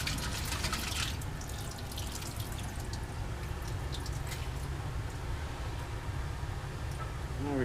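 Ice water running and dripping as a lab beaker that held sodium hydroxide is rinsed, a steady trickle and splash at close range with no speech.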